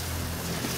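Water sprays and splashes in a loud, continuous rush from an electric water pump close by.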